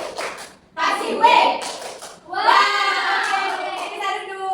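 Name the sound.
children clapping the 'tepuk wow' class clap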